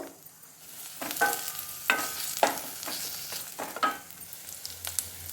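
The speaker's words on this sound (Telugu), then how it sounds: "తెల్లగడ్డని కొద్దిగా క్రష్ చేసుకున్నాను దాన్ని ప్లస్ కరివేపాకు రెండు కలిపి దీంట్లో వేసి వేపుకుందాం కొద్దిసేపు" Onion, crushed garlic and curry leaves sizzle in a pan under a run of sharp scraping stirs and clinks of a spoon against metal, close and irregular.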